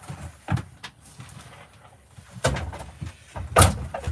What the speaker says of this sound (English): I'm just going to shut this door.